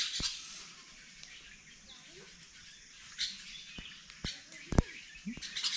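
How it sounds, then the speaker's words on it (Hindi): Many birds feeding on peepal fruit outdoors give scattered high chirps and sharp tweets over a quiet background, a few louder calls clustering near the end. "इतने सारे पक्षी हैं, फल खा रहे हैं, पीपल का."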